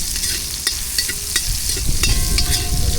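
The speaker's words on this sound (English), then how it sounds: "let us saute for a minute or so" Onions sautéing in a hot pan for a Trinidad curry cascadoo, a steady close sizzle broken by sharp scraping and clicking stirring strokes throughout.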